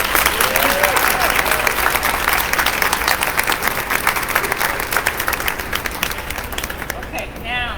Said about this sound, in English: you've been giving polite applause